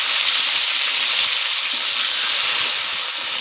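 Malabar spinach stems and potato pieces fry in a pan of hot oil, giving a steady, loud, continuous sizzle with faint stirring scrapes throughout and no talk.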